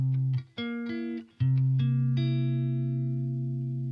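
Clean guitar plucks single notes of a C dominant seventh shell voicing then strums the chord, which rings and slowly decays, quiet and alone.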